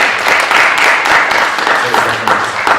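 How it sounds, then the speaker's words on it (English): Loud audience applause bursts out in a crowded room for someone called up to speak, a dense wash of many hands clapping that holds steady throughout. "Let's give him a round of applause."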